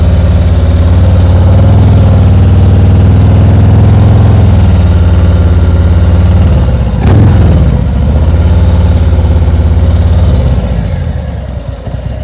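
A motorcycle engine runs loud and close, a steady low drone that shifts as the bike pulls away from a stop, with a brief rising change near the middle before settling again.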